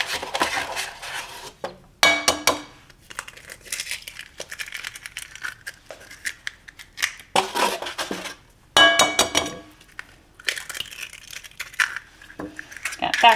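Two eggs being whisked with a small mini whisk, heard as rapid, uneven metallic clinking and scraping against a bowl in quick bursts with short pauses between them.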